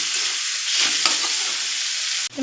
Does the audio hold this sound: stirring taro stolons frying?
yes